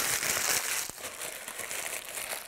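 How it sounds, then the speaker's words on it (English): Several sheets of parchment paper crinkle and rustle while being laid into the bottom of a container for chocolate-covered peppermint Oreos, a close, busy crackle with a brief pause partway through. "I'm going to put about 3 sheets of parchment in the bottom here"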